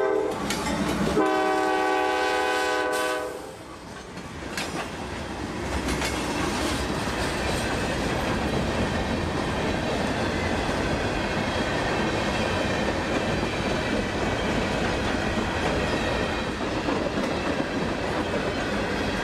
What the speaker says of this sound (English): catch L781's Tuesday run north up to Brooksville, today with the usual CM44s and a pretty hefty train of cement and scrap